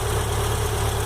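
A Volkswagen AP car engine idling when warm with a ticking noise, a steady close and loud hum with a constant low drone throughout, no talking.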